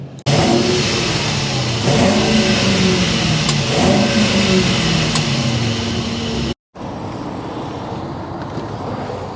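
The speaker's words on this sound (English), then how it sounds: "start it up, so you can hear that exhaust note" A 2024 Mercedes-Maybach GLS600's bi-turbo V8 starts and revs hard, its deep exhaust rumbling loud and close, then drops briefly to silence before idling steadily with a lower burble.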